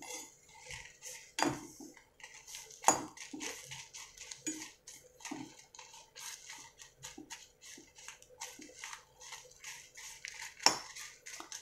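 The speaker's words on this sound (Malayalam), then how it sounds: "ആയിട്ടില്ല, കുറച്ചുകൂടെ ഇളക്കി കൊടുക്കാം." Roasting chillies are stirred in a hot Kerala cheenachatti, giving scattered clinks and scrapes of a utensil against the pan with quieter rustling between them, close and moderately loud, with no voices.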